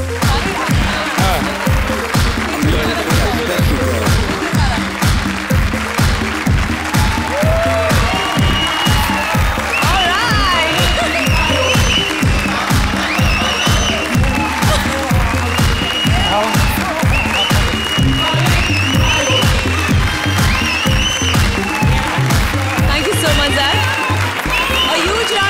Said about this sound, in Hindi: तालियां ज़ायद खान के लिए,